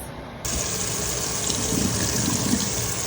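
Black rice being rinsed under running water, a steady close splashing rush that starts abruptly after a brief quiet moment and continues with light sloshing.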